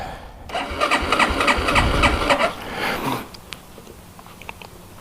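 A 1987 Yamaha TW200 dual-sport motorcycle engine cranks and catches, running loudly and roughly for a few seconds before dropping to a steadier, quieter idle with light clicks nearby.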